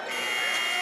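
A loud, sustained electronic buzzer sounds at the end of a period in a boys' high school basketball quarterfinal, holding steady for under a second while crowd noise and voices run underneath.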